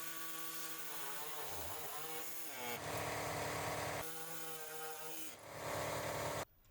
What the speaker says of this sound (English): Then make a cut on each side of the carrier frame.